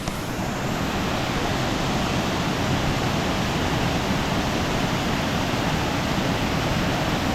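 All Saints Waterfalls in Germany pour with a steady, dense roar of cold falling water, broadband and unbroken, close and loud throughout with no voices.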